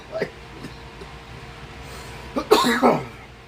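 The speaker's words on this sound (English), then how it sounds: "He made me laugh so hard I coughed." A person coughs after laughing hard, a couple of small throaty sounds followed by a louder, harsh burst of coughing near the microphone.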